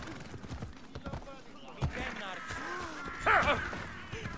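Horse hooves clop along a riverbank during riding in the video game Assassin's Creed Odyssey, a loose, uneven patter of soft hoof falls under steady talk, with a brief louder burst near the end.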